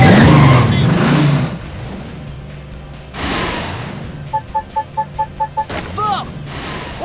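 A cartoon monster truck revs and accelerates in a race, engine roaring loudly at the start and again midway, with a rapid series of electronic beeps and voices talking in between.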